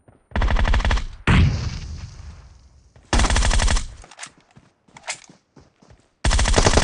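Gunfire in the battle-royale video game PUBG: loud bursts of rapid automatic fire, a sharp blast with a decaying tail, scattered shots and clatter, then another burst at the end.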